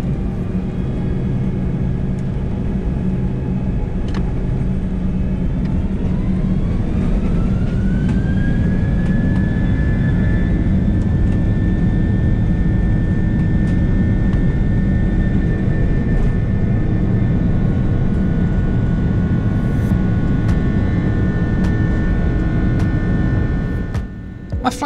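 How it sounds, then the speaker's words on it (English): A Malaysia Airlines Airbus A330-200 jet on its takeoff run roars loud and steady inside the cabin, its engine whine rising in pitch and then holding as the aircraft accelerates. "we were soon lining up for departure"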